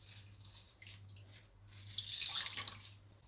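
Soaked bread is squeezed by hand, water dripping and trickling out in a few soft wet bursts, quiet and close over a low background hum.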